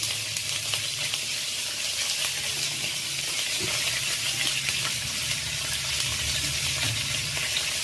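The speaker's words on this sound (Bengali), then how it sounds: "একটু লবণ দিয়ে ভাজা ভাজা করি" Potatoes fry in a pan with turmeric and salt, giving a steady soft sizzle with occasional light stirring scrapes, no voices, fairly quiet and even throughout.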